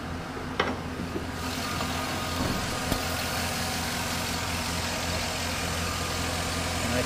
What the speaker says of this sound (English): And a strong engine.